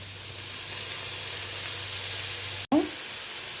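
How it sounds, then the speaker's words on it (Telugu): Dark soy sauce poured into a hot pan of paneer, a steady close frying hiss and sizzle cut by one sharp clack, then a brief spatter. "ఇప్పుడు వచ్చి నేను సోయా సాస్ వేసుకుంటున్నానండి"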